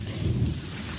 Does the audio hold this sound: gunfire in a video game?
no